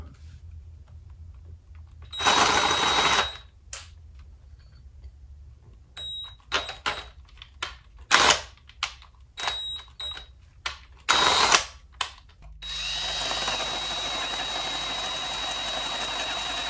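A power drill bites through aluminum on a race car in a string of short bursts, some longer whines and some quick stabs, close and loud, with brief quiet gaps between them.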